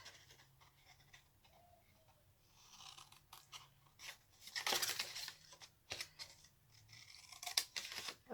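Scissors snipping and mitering the tabs of a paper box, a faint series of short, irregular clicks and crisp cuts close by, growing busier and a little louder toward the end, with no voices.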